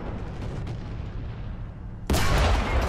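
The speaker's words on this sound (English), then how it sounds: "We hit him, I think, or that was the artillery." Artillery fire in the War Thunder tank game, a low rumbling backdrop that breaks into one loud, sudden broadband blast about two seconds in, which then keeps roaring to the end.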